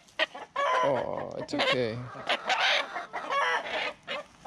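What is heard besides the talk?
chicken clucking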